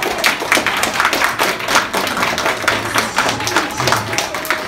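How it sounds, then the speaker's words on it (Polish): Applause for kindergarten children at a preschool initiation ceremony with Santa Claus, a steady run of many hands clapping close by for the whole stretch, without a pause. "wielkie brawa tutaj jeszcze raz dla nich"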